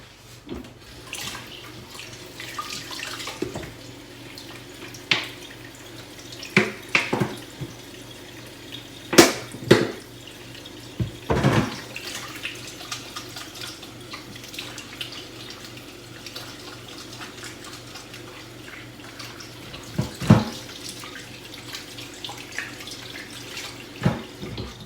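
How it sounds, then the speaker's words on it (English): A kitchen tap runs at low level while hands are washed, with a steady background flow broken by scattered splashes, clatters and drips; no talking. "So I'm going to wash my hands real quick."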